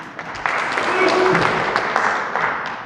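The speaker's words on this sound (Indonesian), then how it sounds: "Tepuk tangan untuk Bu Arti dulu." An audience claps for a woman at a foundation's board inauguration in a housing-estate community. Steady applause swells in after half a second and carries on to the end, with voices mixed in.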